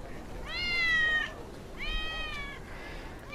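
A kitten stuck up a tree meows plaintively, giving two long, clear, drawn-out cries and then a fainter third one, set against quiet background hiss.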